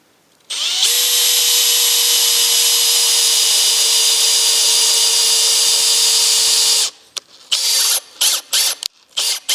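A power drill drives a screw into a large wooden barn door, a loud, steady whine that runs several seconds, then stops, followed by a few short bursts as the screw is snugged down.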